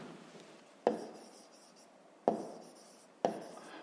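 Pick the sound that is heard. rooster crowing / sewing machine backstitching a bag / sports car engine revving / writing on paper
writing on paper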